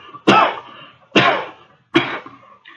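Three heavy, harsh coughs in a row, close and loud, evenly spaced with short pauses between them.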